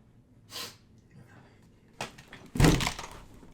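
A single close, sharp sneeze bursting out after a couple of quieter breaths or sniffs, loud and abrupt near the end.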